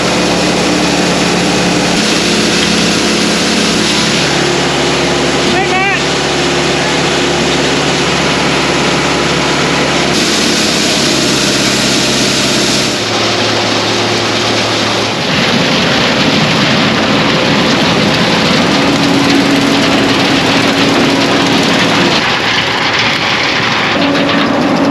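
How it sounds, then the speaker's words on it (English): A farm tractor engine runs steadily and loudly at a constant idle throughout, with a low droning rumble and shifts in tone as the load changes, out on the field during harvest. "I need to turn the tractor on first"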